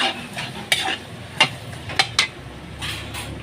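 Eggs cooking in a pan for a vegetable omelette, with soft sizzling broken by sharp utensil taps and scrapes against the pan, close up, no talking.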